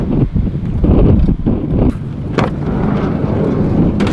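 Strong wind buffets the microphone in heavy, continuous low rumbling gusts at a backyard supercross track, loud and close, with no voices.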